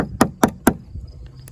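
Three quick, hard knocks ring out as a small Olight i3E EOS pocket flashlight is struck against wood, loud and close, followed by a brief pause and one fainter tap.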